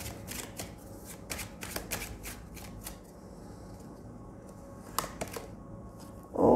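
Tarot cards being shuffled by hand close up, a series of quick riffling and flicking bursts, then a quieter pause with a few soft taps.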